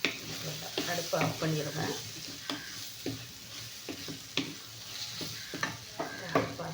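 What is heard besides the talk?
cooked rice poured into pan and stir-fried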